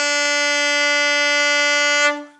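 A single sustained alto saxophone note, played with only the top finger key pressed, holds steady and loud for about two seconds before cutting off cleanly.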